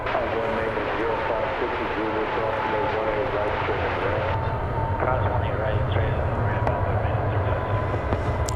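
American Airlines Airbus A321 arriving at DFW Airport at night, a broad steady jet roar with rumbling engine tones filling the whole stretch, fairly loud and continuous.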